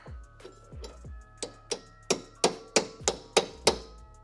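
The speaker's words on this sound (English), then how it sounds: "So you gotta start it off with a little bit of a hammer." Hammer blows drive a tight-fitting suspension part into a control arm on a BMW E36, about a dozen sharp metallic strikes that start light and grow louder and steadier, close up with no talking.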